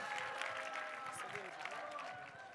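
Church audience at a Korean youth testimony event clapping in encouragement, a moderate burst of applause mixed with crowd murmur and voices talking over it throughout.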